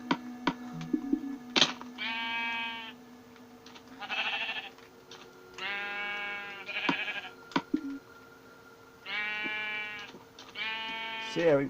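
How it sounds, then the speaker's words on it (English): Sheep in a video game bleat loudly and repeatedly, about six separate bleats spaced across the stretch, with faint game sounds between them. "So yeah, we got a bunch of sheep"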